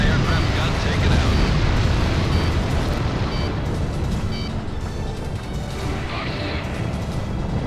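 Anti-aircraft gun destroyed in Ace Combat 6 on a fortress mission, a loud sustained explosive rumble with heavy low roar filling the whole stretch, radio voices talking over it.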